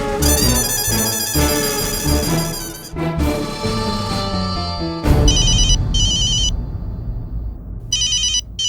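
A telephone rings loudly, repeating electronic trills in bursts with brief gaps between them, close and with no talking.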